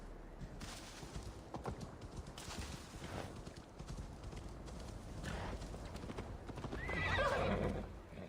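Hooves clip-clop in a video game in Jorvik, with intermittent hoofbeats and a clear horse neigh near the end, heard at moderate loudness without talk.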